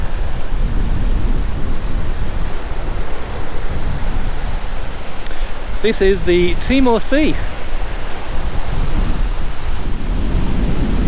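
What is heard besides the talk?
strong wind by the sea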